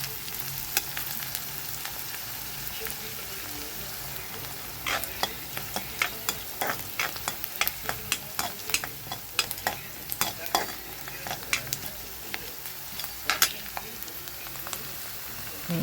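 Onion, green chillies and curry leaves fry in a pan for broad bean upma, a steady sizzle broken by frequent sharp scraping and clinking as a spoon stirs them, close and fairly loud, with no voices.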